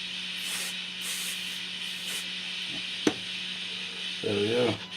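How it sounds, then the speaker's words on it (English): Cleaner is sprayed from an aerosol can into a dirty aerial socket in a workshop: three short, close hissing bursts, then a sharp click and a brief rattling noise near the end, over a constant background hum. "Let's spray the aerial socket."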